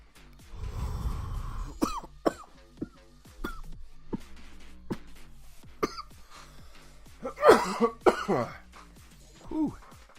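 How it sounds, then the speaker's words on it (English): Harsh, repeated coughing and throat clearing follow a dab hit, a close, irregular burst of hacking coughs and raspy breaths spread through the stretch with no speech. "Cover my mouth when I coughed on that one"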